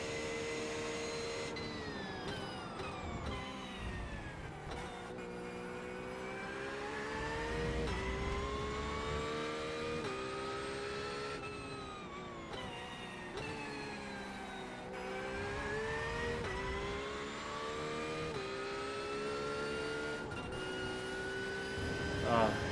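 A Porsche 911 GT3 race car's engine in the iRacing sim wails continuously, its pitch climbing and falling through repeated gear changes and corners over a long stretch.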